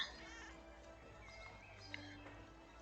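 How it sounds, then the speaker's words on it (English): Duncan, a house cat, gives a few faint meows in the background, with soft rising and falling calls over quiet room tone. "It's Duncan, and he keeps meowing"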